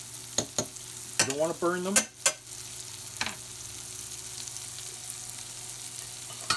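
Shallots fry and sizzle in a pan while being stirred, with scraping strokes over a constant hiss and a person talking briefly in between.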